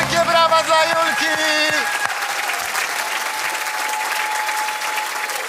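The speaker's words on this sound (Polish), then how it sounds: "Wielkie brawa dla Julki!" A TV quiz-show studio audience bursts into applause for a young contestant, steady clapping alongside musical stings and jingle tones at the start, continuing evenly to the end.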